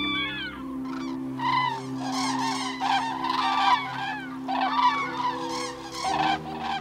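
Cranes in an autumn wilderness of Lusatia call before migration departure, with repeated loud trumpeting and honking from several birds in overlapping bursts over a steady low hum.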